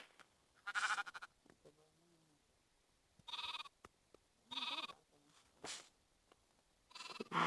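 Sheep bleating in Minecraft Pocket Edition, several short separate bleats spaced across the stretch, fairly loud and close, with no talk over them.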